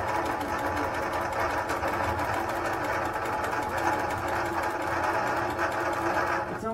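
A quilting sewing machine stitches at a steady, fast, even mechanical hum with a rapid needle rhythm. It runs continuously and close by, then stops at the very end.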